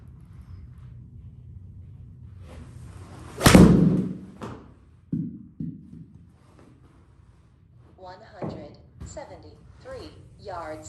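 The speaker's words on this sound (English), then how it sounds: "Hitting some fly balls now." Golf club striking fly balls on a range, one sharp loud impact followed by a couple of softer thuds, with a voice talking briefly afterward.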